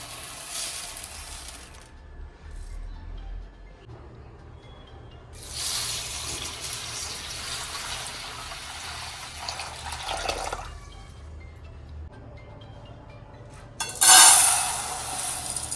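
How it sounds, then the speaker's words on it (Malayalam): Water splashing and running as urad dal and rice are washed for Kannur-style vellakkara, with bursts of pouring and sloshing separated by quieter gaps, close and alone. "അപ്പോൾ ഉഴുന്നും അരിയും ഇങ്ങനെ വെള്ളത്തിൽ കഴുകിയിട്ട് വെള്ളത്തിൽ കുതിർത്തിട്ട്"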